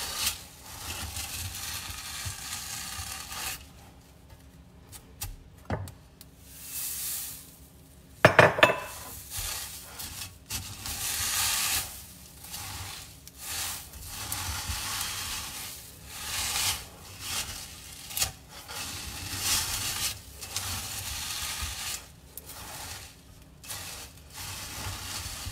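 Wooden spoon stirring sticky Rice Krispie treat mixture in a pot, irregular scraping and rustling strokes in bursts with pauses, one sharp knock against the pot midway, close up and fairly quiet with no talking.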